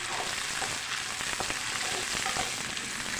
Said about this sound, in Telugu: పచ్చిమిరపకాయలు కరివేపాకు ఫ్రై చేద్దాం